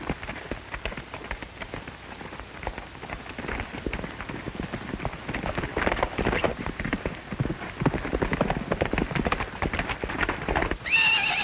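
A horse gallops with rapid clip-clop hoofbeats and whinnies, loud and close in an old western film scene, with a sharp neigh near the end.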